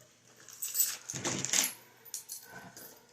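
A small bunch of metal keys jangles and clinks close by in a few short bursts, bright and metallic against a quiet room.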